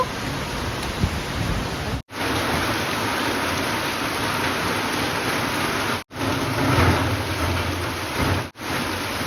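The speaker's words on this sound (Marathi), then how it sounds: "आता असाच पाऊस पडतो कधी जोरात पडतो" Steady, dense monsoon rain in the Konkan region pours down continuously, a broad hiss of drops hitting surfaces, broken by a few abrupt silent gaps.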